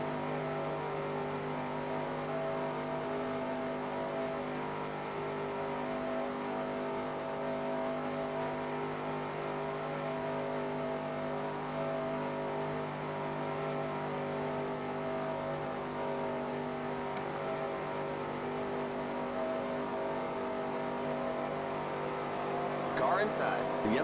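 Sustained drone of race car engines in NASCAR Racing 2003 Season at Texas, a steady layered hum with harmonic whine holding level throughout, loud and continuous, with occasional speech over it.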